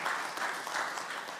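An audience applauds loudly and steadily at a political event where Megawati names Mahfud MD as Ganjar Pranowo's running mate; dense, continuous clapping fills the space without a break.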